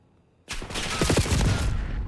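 Black Ops 6 ranked play gunfire: a rapid automatic burst that starts abruptly and keeps firing for about a second and a half, loud and close, with no talk over it.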